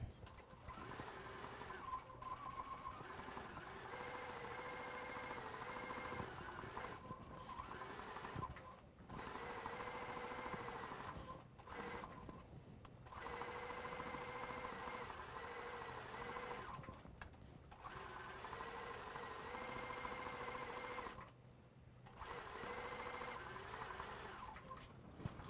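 A sewing machine stitches a quilted tree skirt in long steady bursts with brief pauses between them, a mechanical hum and rattle close by.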